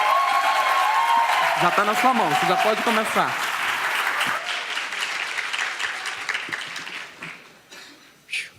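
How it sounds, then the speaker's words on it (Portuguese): Audience applause at an education event honoring teachers, loud and sustained, then fading out over several seconds while someone speaks over the clapping. "Aplausos para o Geise."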